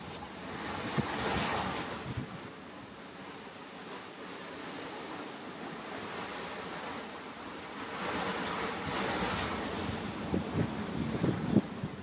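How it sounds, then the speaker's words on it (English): Short, steep open-ocean waves reaching up to 20 feet surge and crash around a boat in a gale, with constant wind roaring across the microphone and swells building in two broad rushes. "Some of the waves reached 20 feet"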